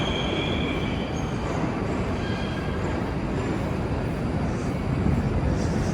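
A Moscow metro train runs loudly and steadily, a dense roar of wheels on rails with faint high squeals throughout, heard from inside the moving carriage.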